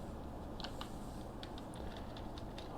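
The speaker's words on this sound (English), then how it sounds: "what's happening to my typing today?" Light clicking of keys on a computer keyboard, a quick irregular run of soft taps, faint and close against a steady background hiss.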